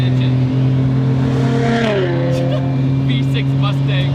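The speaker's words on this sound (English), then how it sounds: "The 1J is the feel-good motor." A Toyota 1JZ engine revs hard, a loud and close drone that climbs in pitch, then eases down and settles into a steady high hum.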